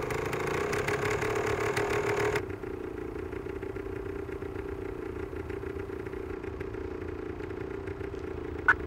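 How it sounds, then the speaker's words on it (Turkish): A motorcycle engine idles and putters with a mid-pitched clattering knock, louder at first and then steadier and quieter, with a brief sharp click near the end. "Motosikletli birisi."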